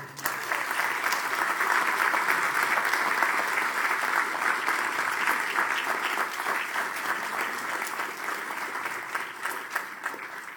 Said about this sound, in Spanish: Sea pues nuestro mejor aplauso para el maestro Lorenzo Leguizamón